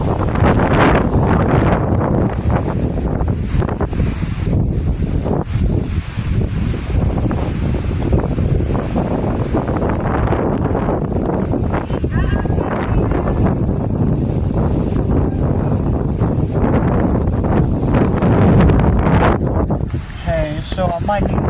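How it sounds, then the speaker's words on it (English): Strong tornado wind roars continuously outdoors in Hastings, buffeting the microphone loudly throughout with no letup. "The wind's moving."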